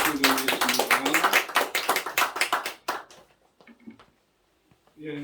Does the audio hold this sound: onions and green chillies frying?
no